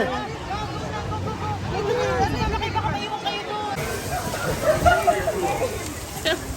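Heavy rain pours at Disney's Hollywood Studios theme park as a steady broadband wash, with people talking and crowd chatter over it throughout.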